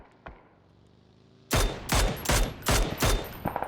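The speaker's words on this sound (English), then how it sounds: "They basically are hearing some gunshots" A rapid string of loud, sharp gunshots fires in quick succession, five or six blasts in a row after a quieter lead-in with one distant shot.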